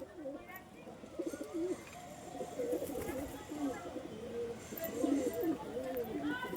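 Pigeons cooing at a pigeon seller's loft in Dankuni, with soft, repeated low coos running steadily under a voice as he talks.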